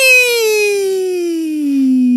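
A human voice imitates a siren, one loud, clear tone sliding slowly downward in pitch for about two seconds, heard close and alone.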